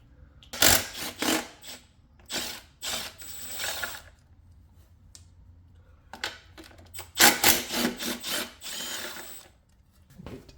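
Close 13 mm socket ratchet clicking in two clusters of quick strokes, with a quiet gap between them, removing a bolt on the rear fender of a 2023 CFMoto CL-X motorcycle; no talk.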